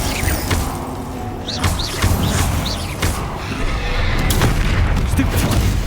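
Bombarda explosion spells in the Hogwarts Legacy video game, dense booms and thuds of battle with repeated impacts throughout, with a voice speaking over the din.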